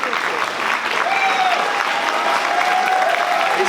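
Comic Con Paris audience applauding as the cast of a French series is introduced, sustained dense clapping from a large crowd with a faint tonal line drifting through it.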